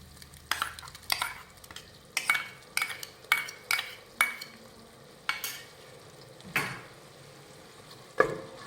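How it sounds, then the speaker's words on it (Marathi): Ground paste of garlic, ginger and coriander sautéed with onions in a pan for misal, about a dozen distinct spoon scrapes and stirs over a faint sizzle, spaced irregularly and close up. "कांद्यासोबत परतून घेऊयात हे वाटण तर हे वाटण कांद्यासोबत व्यवस्थित परतून घेऊयात"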